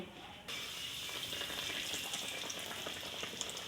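Bread kachori frying in hot ghee, with a steady, close, loud sizzle that starts abruptly and then crackles on continuously without any talking.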